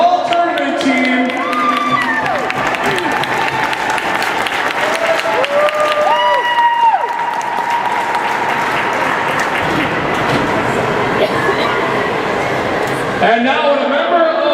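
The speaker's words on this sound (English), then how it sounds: "How about a big round of applause for our all-tournament team?" Applause and cheering from a rink-side crowd at a youth squirt hockey tournament, honoring the all-tournament team: steady clapping with whoops runs the full length, with an announcer's voice and a voice talking over it in the middle.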